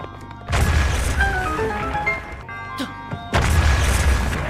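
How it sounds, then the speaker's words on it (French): In Zelda: Breath of the Wild, a remote bomb goes off with a deep game boom, with loud bursts at the start and again near the end under game music and chimes while a person talks excitedly in French. "Bombe à distance."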